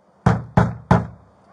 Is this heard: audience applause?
no